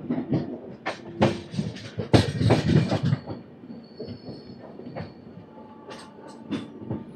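The Satavahana Superfast Express (12713) runs on rails near Moula Ali station toward Secunderabad, a steady rumble of wheels and carriage rattle with rhythmic clicks and occasional squeals, heard close from on board with no talk.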